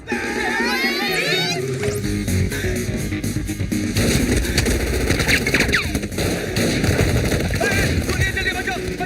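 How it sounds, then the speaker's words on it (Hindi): Rapid gunfire bursts rattle through a chaotic comedy film scene, mixed with frantic shouting voices and busy background sound. "गोलियां चल रही है, बचाओ बचाओ बचाओ बचाओ!"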